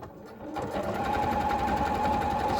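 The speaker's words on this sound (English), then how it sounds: "Now I'm using my lovely old Janome sewing machine that I've had for more than 20 years. I've put a long zigzag stitch" An old Janome sewing machine, more than twenty years old, runs a long zigzag stitch through fabric, a steady close mechanical whir that starts after a brief pause and holds to the end.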